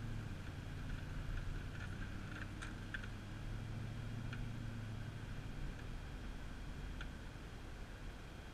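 A 1999 GMC Yukon SLT's exhaust gives a faint, steady low drone with a soft hiss on top while the truck drives, holding even throughout with no voices.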